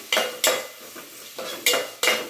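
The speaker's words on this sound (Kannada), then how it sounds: "ಈರುಳ್ಳಿ ಫ್ರೈ ಆಗ್ತಾ ಇರುವಾಗಲೇ ನಾನು ಆಲೂಗಡ್ಡೆನೂ ಹಾಕೊತಿದ್ದೀನಿ ಎಣ್ಣೆನಲ್ಲೇ ಆಲೂಗಡ್ಡೆ ಹಾಕೋದ್ರಿಂದ" Potatoes go into onions frying in oil for a paneer aloo masala, giving four or five sharp clattering stirs and scrapes of a spoon against the pan over a faint sizzle.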